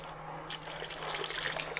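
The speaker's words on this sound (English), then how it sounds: "I always get the excess water out of my bottle into the pan in case anything's stuck in the straw" Water squirting from a squeeze bottle into a gold pan during crushed-ore gold recovery, a short steady close splashing trickle with fine droplets.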